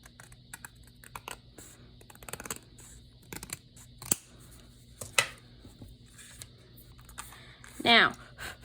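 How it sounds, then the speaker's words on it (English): Scissors trimming a strip of paper for a handmade cat-themed birthday card give a few sparse, crisp snips spread across a quiet room, with small handling clicks and rustles in between. "I'm gonna grab some scissors and just trim that off."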